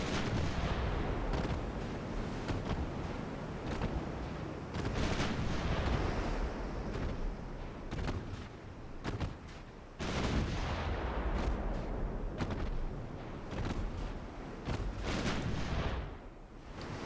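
Artillery shells strike armour in the Stormriders campaign as a steady barrage of heavy booming impacts and rattling hits over a dense, constant roar of battle.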